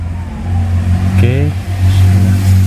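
A 2013 Suzuki Ertiga GL car engine cranks and starts, then settles into a steady low idle. A quick rev rises and falls midway. Close and loud, with some talk in the clip.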